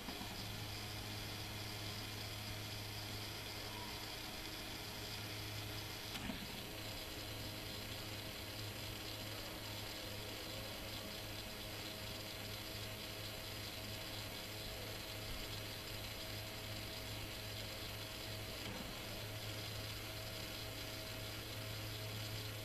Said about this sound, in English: you can notice the different directions that the motor is gonna spin